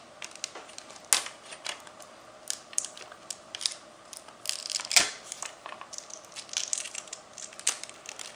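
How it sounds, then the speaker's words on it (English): Small scraping, crinkling and clicking sounds from an X-Acto knife lifting the sticker off a laptop screen connector on a Sony VAIO VGN-NW270, a few sharp clicks among quieter scratchy rustles, close up with no talking. "take an X-Acto knife again, just to help you peel off the sticker that holds the connector in place."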